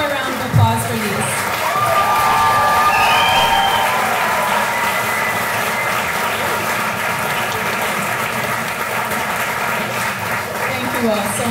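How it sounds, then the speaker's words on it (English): Audience applause at the 2022 Brookie Award Ceremony, sustained dense clapping from a crowd with scattered cheers, loud and steady throughout. "one more round of applause for these."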